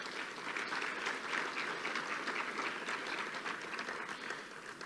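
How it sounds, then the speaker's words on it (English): A luncheon audience at a Chamber of Commerce monthly meeting applauds in a steady, full round of clapping that holds evenly for several seconds. "Could we give all these people a big round of applause?"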